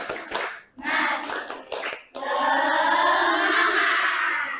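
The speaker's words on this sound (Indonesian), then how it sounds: "tepuk semangat" Schoolchildren in a classroom perform a rhythmic group clapping chant, a few sharp patterned claps in quick bursts followed by voices joining in a loud, sustained unison chant close by.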